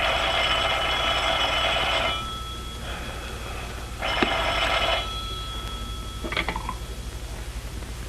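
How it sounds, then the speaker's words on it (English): An old telephone bell rings in long bursts, a bright continuous trill lasting about two seconds, then another ring after a pause and a shorter final burst, with no voices. "Well, keep ringing them."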